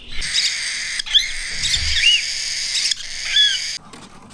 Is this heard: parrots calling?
yes